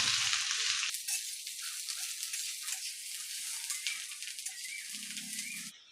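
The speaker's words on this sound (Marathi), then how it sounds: "तर आता मोठ्या गॅसवर मी कांदा चांगला काळसर असा तळून घेते" Onion fries in oil over a high flame until it turns dark, for a village-style black chicken dish, giving a steady, loud hiss of sizzling with a faint clatter near the end and no voices.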